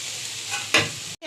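Potatoes and ground spices sautéing in oil for soybean kofta curry, a short burst of close frying hiss with one sharper scrape, then a sudden cut.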